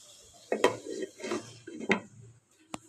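Metal lid set down over a pan of frying masala for a thin katla fish curry with ridge gourd and potato, giving a few close clattering knocks and scrapes with short gaps, ending in one sharp tap.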